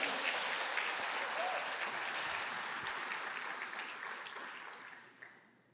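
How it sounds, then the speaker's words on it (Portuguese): Audience applause after a call to clap at a Portuguese-language church sermon, a dense wash of many hands that fills the space and fades out near the end. "Dá uma salva de palmas para Jesus."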